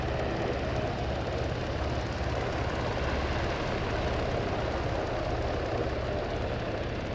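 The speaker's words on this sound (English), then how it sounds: "Those helicopters gonna crash!" Helicopters flying in the Arma 3 video game give a continuous, even rotor and engine drone, dense and unbroken for several seconds, with no one talking.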